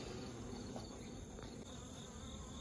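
Honeybees drift around a trap-out cone, a steady faint insect hum with a thin high whine, close and continuous with no voices.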